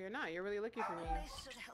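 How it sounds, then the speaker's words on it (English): A dog whimpers and yips in high, wavering whines beside a gaming session, the cries rising and falling under close conversation. "Excuse my dog."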